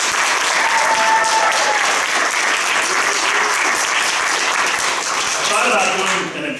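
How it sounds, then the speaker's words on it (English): A theater awards audience at a community arts center breaks into loud, sustained applause, a thick continuous roar of many hands with some cheering voices inside it, easing off at the very end. "So how about a round of applause?"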